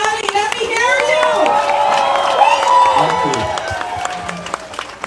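A crowd of Canal Number Two Polder residents claps and cheers for President Irfaan Ali, sustained loud applause with a voice shouting over it and tonal sounds running through.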